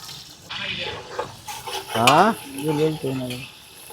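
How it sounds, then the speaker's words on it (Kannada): Onions frying in a pan with pulao masala and cardamom, stirred by a spoon that gives scraping clinks over a soft sizzle, while a voice talks briefly in the middle. "ನಾನು ಸ್ವಲ್ಪ ತಿರುಗಿಸ್ತಾ ಇದ್ದೀನಿ, ಅದು ಫ್ರೈ ಆಗಲಿ ಅಂತ"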